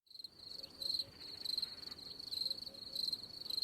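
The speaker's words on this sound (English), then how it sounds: "the rest of this video will be the sounds of crickets" Crickets chirp in quick, regular pulsing bursts, fairly faint, with a soft background hiss and no other sounds.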